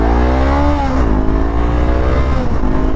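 A Honda CB500X parallel-twin motorcycle engine revs up and settles into a smooth, steady drone, its pitch dropping briefly before holding, loud and close with no talk.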